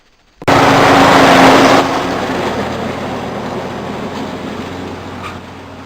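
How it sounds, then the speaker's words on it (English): A tractor engine kicks in abruptly, loud and close, then settles into a steady rumbling drone as it mows, with no voices. "bring the tractor in and cut this grass"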